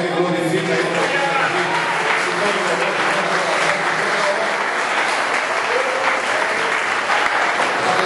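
A church congregation at an Assembleia de Deus evening service claps steadily for about eight seconds, a dense, continuous wash of applause from a crowd with faint voices mixed in.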